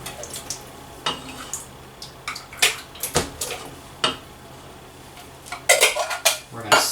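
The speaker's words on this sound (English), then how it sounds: "just dumping this whole can in" White beans tumble from a whole can, liquid and all, into a pot, giving a few clattering metal knocks and wet splashes in scattered bursts, loudest near the end, with no talk.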